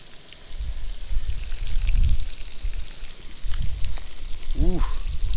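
Trout and breaded onion rings frying in a pan outdoors, a loud continuous hiss and crackle of hot oil up close, with a brief low thump and a short rising tone near the end.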